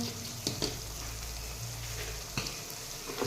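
Tomatoes fry in a pan as spices go in, producing a steady low sizzle with a few soft clatters and stirring knocks, close up and quiet, with no speech.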